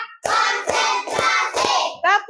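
Young primary pupils in a classroom clap in time with the teacher's count: four or five sharp, evenly spaced hand claps, close and loud, followed by a short burst of young voices.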